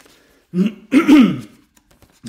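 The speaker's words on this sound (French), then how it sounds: "Pourquoi je tousse?" A few short, throaty coughs close to the microphone, a quick pair followed by a brief catch near the end.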